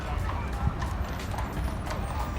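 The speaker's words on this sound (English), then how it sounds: "Just in case this town wasn't cowboy enough, you can get a wagon taxi." Hooves of a horse pulling a wagon taxi through the cowboy town of Jackson Hole, a steady clip-clop rhythm at moderate distance under outdoor street noise and a talking voice.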